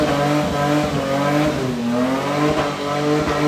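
A Nissan 200SX S13 car engine revs hard in third gear while being tested off a standstill, a loud, steady engine note rising and falling throughout with no talk over it.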